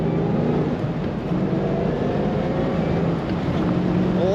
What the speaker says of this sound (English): You can hear the whine from the motor just enough